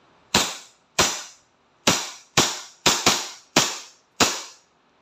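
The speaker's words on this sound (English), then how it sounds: "So, ready to fire na yan." A WE 1911 semi-automatic airsoft pistol fires eight sharp, loud cracks close to the microphone. The shots come at a slightly uneven pace, with quiet gaps between them.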